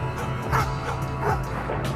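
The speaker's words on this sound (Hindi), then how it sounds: "दूर से कुत्ते भौंकने की आवाज" Dogs bark and yip at a distance on a dark, windy village path at night, short repeated calls rising over a steady low hum.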